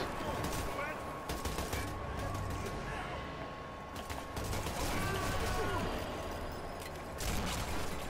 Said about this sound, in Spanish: Esto, para matar, a pegar 25 tiros.